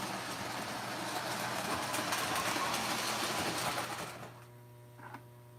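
A rotary beacon on a model railroad layout gives off a steady electrical buzz and hum that drops away abruptly after about four seconds, leaving only a faint low drone.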